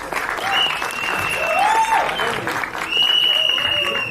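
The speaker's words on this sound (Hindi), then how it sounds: "तालियां बजाइए." Audience at a film trailer launch event applauding, a dense burst of clapping lasting a few seconds, with a voice and some tonal sound layered over it.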